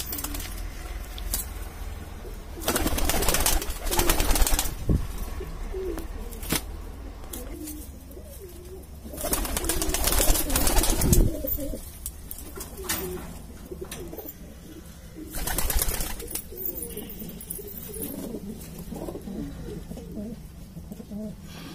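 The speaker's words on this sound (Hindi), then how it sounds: "बहुत ही अच्छी नस्ल के कबूतर है इसके बीच में।" Indian pigeons coo repeatedly, soft throaty calls near and far, with bursts of rustling and wing flutters between them.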